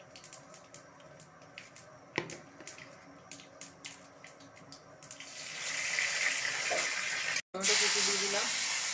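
Cumin seeds and whole spices hit hot refined oil in a pan, a few scattered clicks and taps giving way to a loud, steady frying hiss that builds midway, with a brief cut near the end.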